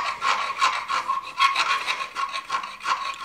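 Short repeated rasping strokes scrape powder coating from inside holes on an Ultima RS build, a gritty back-and-forth rhythm of about ten close, fairly loud passes.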